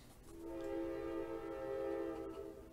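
A commuter train on the Fox Lake line sounds its horn, one sustained tonal blast swelling in over a low rail rumble and then easing off, heard from some distance and fairly faint overall.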